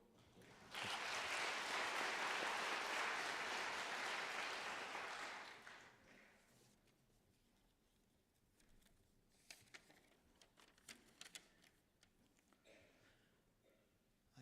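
Warm applause from a church congregation at an elder retirement service, a loud sustained round of clapping that fades after about five seconds, followed by quiet room noise and a few scattered knocks.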